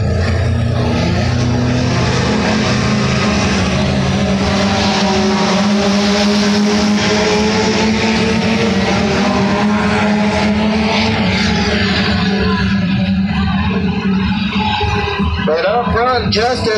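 Race cars at the East Lincoln track howl with layered engine drones that rise and fall as they pass, loud and continuous, under a commentator's talk.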